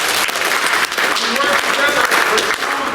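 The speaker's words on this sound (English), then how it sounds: "So on the count of 3, I want us all to clap at the same exact time." A conference audience claps together on cue, producing a sustained, loud, dense burst of applause from many hands in a large room, with a voice speaking over it.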